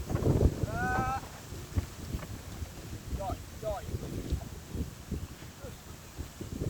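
Wind gusting across open ground on a cold early morning in rural Thailand, a steady rushing hiss with rumbling buffets on the microphone and faint birdsong chirps above it.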